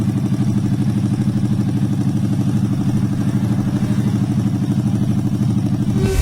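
A single-cylinder Honda Supra motorcycle engine runs loud and close with a steady, fast-pulsing throb for several seconds, holding an even rev with a mechanical clatter and no talk over it.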